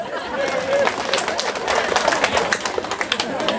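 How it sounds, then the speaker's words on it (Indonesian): Audience applause during a Bugis-language religious sermon, a crowd clapping in uneven bursts mixed with chatter and murmuring voices, fairly loud and close. "Tepuk tangan ki."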